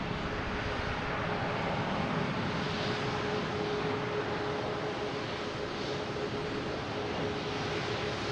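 An Iberia airliner at Boston Logan Airport bound for Madrid, its engines a steady broad roar holding at an even level throughout, heard from a distance with no voices.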